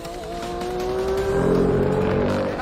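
Porsche GT3 with Weissach pack driven hard, engine note rising steadily as it accelerates, loud and close throughout with a continuous revving drone.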